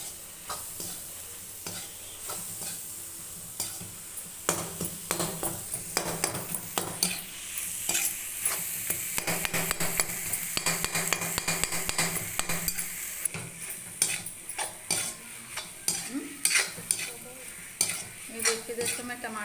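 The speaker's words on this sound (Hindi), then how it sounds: "अब इसको टमाटर को अच्छी तरह मिक्स करेंगे।" Tomatoes are mixed into amaranth greens and chickpeas cooking in a pan, with repeated clinking and scraping of a metal spoon against the pan over a soft sizzle, close and rhythmic with a few sharper knocks.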